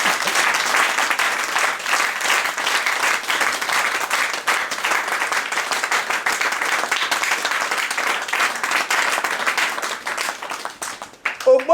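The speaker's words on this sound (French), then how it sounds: "applaudissez pour le Créateur" An audience claps and applauds continuously at a coronation ceremony for an Ogboni representative in Congo DRC. The applause is dense and sustained throughout, with a brief shout near the end.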